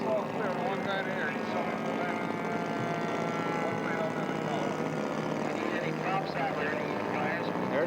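Small propeller aircraft taxiing out at an airfield in Mulino, Oregon: a steady, fairly close engine drone with propeller buzz that holds level throughout, with people talking over it.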